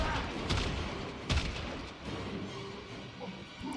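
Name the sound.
Vectis rifle reloading in Warframe video game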